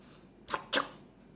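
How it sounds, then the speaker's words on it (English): A faint, quick sneeze sounds in two short bursts, a soft intake followed by a sharper release, set in a children's Bible story. "the boy started to sneeze"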